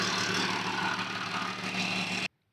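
A Jeep engine idles at a steady, even rumble nearby, then cuts off abruptly just before the end, leaving silence.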